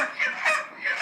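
Broiler chickens clucking at a poultry shop, with a few short, fairly loud squawks in quick succession, close and with no talk.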